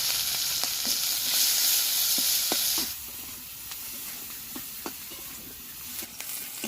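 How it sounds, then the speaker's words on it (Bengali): Loud, steady sizzling of chopped onions with green chilies and five-spice frying in hot oil, with occasional soft scraping clicks from a spoon; the hiss drops lower partway through. "পেঁয়াজগুলো ভাজা হয়ে গিয়েছে"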